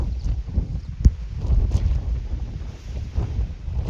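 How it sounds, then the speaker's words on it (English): Strong gusting wind buffets the microphone on a mountain trail of the Appalachian Trail near Mount Washington in New England, a continuous rough low roar with one sharp bump, no talk. "Wind is crazy."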